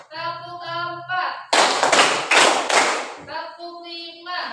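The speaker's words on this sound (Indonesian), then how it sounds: "Tepuk 1, tepuk 2, tepuk 3, tepuk 4," A voice chants a count, then teachers and students together clap hands in a quick burst of about four sharp, close claps before the chanting resumes.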